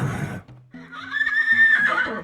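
A horse neighs loudly and close in a shrill, quavering whinny that rises and falls over about two seconds, used as a sound effect in a tabletop RPG show about a stallion and a Pegasus.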